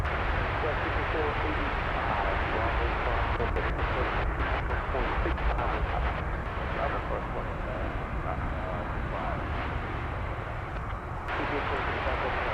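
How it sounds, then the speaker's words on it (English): A jet taking off at DFW Airport at night, a steady, loud broadband engine roar filling the whole stretch with only slight swells, no voices over it. "That's a pretty snappy takeoff"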